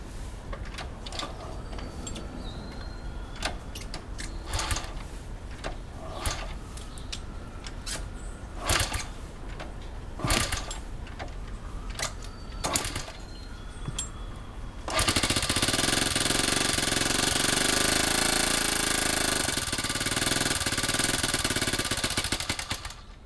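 A rebuilt 1971 Honda CT90 motorcycle engine being started: a stretch of loud, irregular sputtering pulses, then the engine catches and runs with a steady, dense roar close by, no voices.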